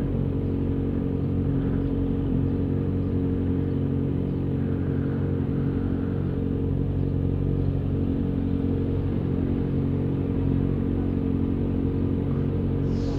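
Motorcycle engines rumble steadily at an international motorcyclists' meet, a dense continuous low drone of many idling and passing bikes with no clear individual revs standing out.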